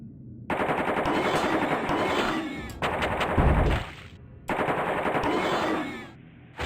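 AK-47 rifle fire in a video game rattles out in two long, loud, sustained automatic bursts. A brief pause falls between them, and the second burst cuts off abruptly.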